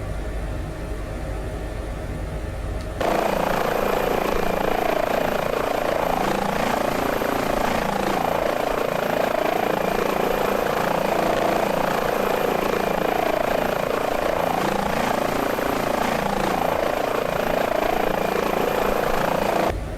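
An H145 air ambulance helicopter in Microsoft Flight Simulator kicks in after a quiet start, then holds a loud, steady rotor and turbine drone with a faint pulsing beat for the rest of the stretch.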